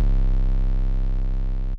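A long 808 bass sample taken from a song plays as one steady, deep, booming note for nearly two seconds before it cuts off abruptly. No one speaks over it.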